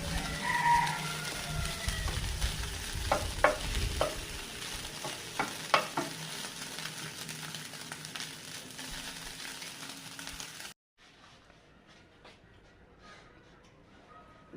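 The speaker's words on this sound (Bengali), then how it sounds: "মাছগুলো আমি এইভাবে ভেজে নিলাম" Small fish fry in a hot pan over about ten seconds, with a steady sizzle, stirring scrapes and light clatter. The sound then drops to a faint, quiet background.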